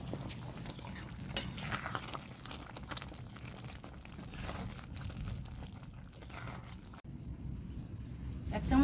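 Spices are stirred into a batch of sweet, sour and spicy mango pickle, with soft clinking of a utensil against the pot and irregular scraping, moderately close.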